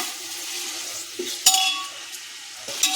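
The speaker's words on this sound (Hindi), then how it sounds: "इसको 10 मिनट तक चिकन को अच्छे से भूनना पड़ेगा क्योंकि पानी ना रहे।" Steady sizzling of chicken frying in a pan for biryani, with a few sharp scrapes and clinks of a utensil stirring against the pan.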